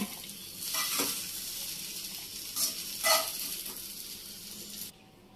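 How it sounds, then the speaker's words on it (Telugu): Okra (lady's finger) pieces frying in oil in a pan over a high flame, a steady close sizzle with a few louder bursts as the pieces are stirred, then the sizzle drops away abruptly at the end. "మనం ఇప్పుడు వేయించుకోవడానికి హై ఫ్లేమ్లో పెట్టుకుని వేపుకోవాలి"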